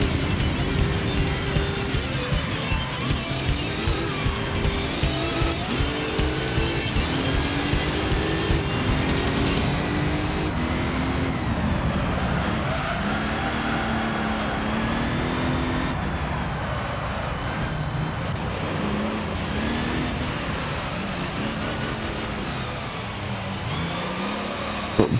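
F1 race cars racing in Gran Turismo 3 produce a continuous loud engine roar with shifting, wavering revs throughout, several engines blending together with no pauses.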